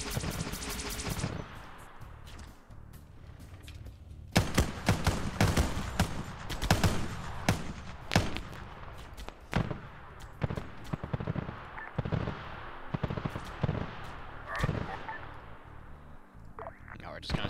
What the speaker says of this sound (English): I hear the needlers going out.